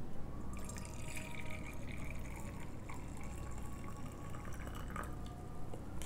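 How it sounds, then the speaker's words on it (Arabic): Boiled water trickles and splashes into the lower reservoir of a moka pot, a continuous faint pouring sound with soft gurgles throughout. "نضيف الموية المغلية داخل الخزان."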